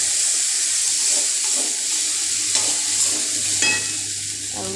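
Poha cooking in a hot pan hisses and sizzles steadily as a splash of water hits it, with a few close stirring scrapes and clinks breaking through the continuous crackle.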